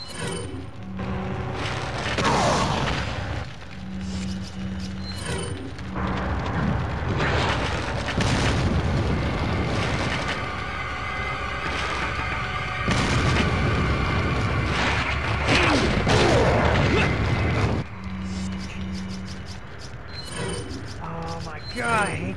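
A flash grenade goes off in Resident Evil 4 HD on PS3, with heavy booming bursts and blasts over a steady rumble of game music and noise, plus a few loud swells across a long stretch of combat.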